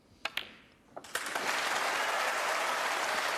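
A snooker crowd breaks into applause for a century break in an O'Sullivan versus Allen match, starting after a few sharp ball clicks and swelling into steady, sustained clapping.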